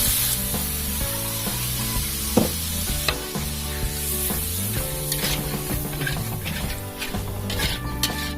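Red chilies go into a hot pan and sizzle steadily under stirring, with metal utensil clinks and scrapes against the pan, while background music plays throughout.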